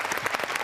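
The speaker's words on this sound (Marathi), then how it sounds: "आपण जोरदार टाळ्या वाजून त्यांचं स्वागत करूया" A short burst of audience clapping on a Marathi comedy stage welcomes guest Uttaratai, a moderately loud, steady patter of many hands.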